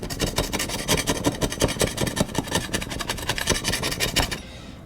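A cake slicer scrapes dried, hardened reptile urates off a surface in a fast run of rough, raspy strokes, close and fairly loud, with no talking.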